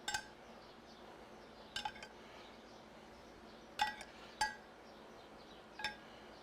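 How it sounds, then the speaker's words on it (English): A metal spoon clinks against oyster shells and a tray while garlic butter is spooned into grilled oysters, giving about five separate light clinks, some doubled, spaced a second or two apart over a quiet background. "I'm just going to put a spoonful in each one of these oyster cups"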